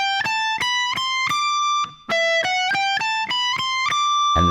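An electric guitar plays a solo phrase high on the neck of the third, second and first strings. It is a clear run of distinct ringing notes with a short pause midway, played alone and close.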